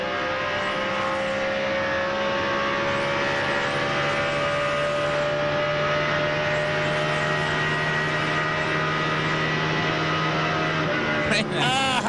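NASCAR stock car engine screaming at high RPM down the Pocono front straightaway during the 2002 Pennsylvania 500, a sustained steady whine heard at a distance with crowd or track ambience, ending with a brief sharp burst.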